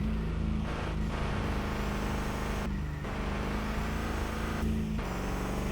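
Racing car engine in RevHead, a loud sustained drone broken by several short gear-change dips as the driver downshifts, pitch shifting after each break.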